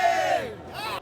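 Brief burst of cheering from a packed crowd of students and alumni at a high school baseball final in Seoul's Mokdong stadium, rising shouts and whoops close up, cut off abruptly.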